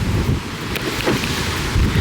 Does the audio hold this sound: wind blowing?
yes